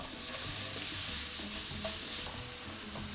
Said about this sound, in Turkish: Kıymayı suyunu salıp çekene kadar kavuracağım.